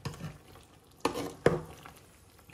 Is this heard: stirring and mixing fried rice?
yes